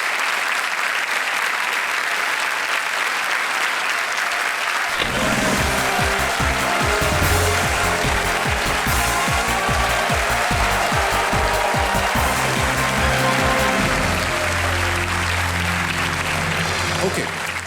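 Studio audience on a TV quiz show claps in a thick, sustained wave while a host speaks, then a punchy musical sting with heavy bass hits kicks in beneath the applause and carries on to the end.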